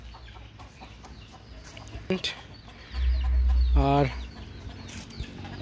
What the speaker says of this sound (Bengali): আশেপাশে মোরগ ডাকছে খুব।